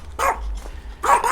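A dog barks twice, about a second apart, each a short sharp bow-wow close by, with a faint low rumble between.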